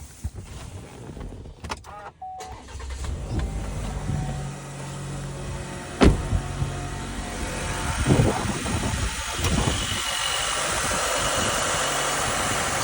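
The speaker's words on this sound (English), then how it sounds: "And I'll turn the car on now so you guys can see what I'm talking about." A 2021 Chevy Silverado 1500 with the 2.7L engine cranks and starts after a few clicks, then settles into a steady close idle with some rattling and rising engine hum.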